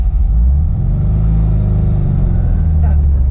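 A rear-engined, very low-geared car pulls away in second gear, its engine a steady deep rumble from behind with low throbbing under constant road noise throughout.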